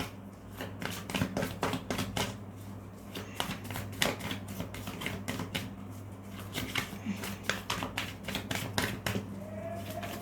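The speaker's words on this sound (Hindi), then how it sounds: "चलिए शफल करना स्टार्ट करते हैं।" Tarot cards are shuffled by hand in quick, crisp bursts of riffling and tapping, close and fairly soft, repeating in uneven clusters throughout.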